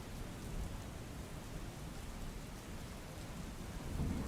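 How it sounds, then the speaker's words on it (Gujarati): Heavy monsoon rain on a waterlogged national highway in Bharuch, a dense, even roar with low rumbling underneath, steady and fairly faint throughout with no voices. "ભારે વરસાદ અને વરસાદી પાણી ભરાયેલી સ્થિતિમાં"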